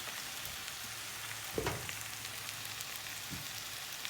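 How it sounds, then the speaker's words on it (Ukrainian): Potatoes stewing in a pan for a vegetable ragout, giving a faint, steady low sizzle with a couple of brief stirring clatters, quiet and close. "І окремо ми також тушимо картоплю."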